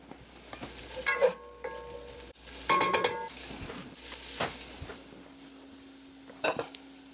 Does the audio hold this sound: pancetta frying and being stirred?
yes